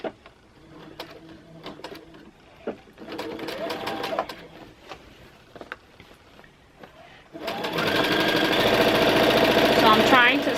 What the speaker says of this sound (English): I'm still going to go ahead and just stitch this binding down with white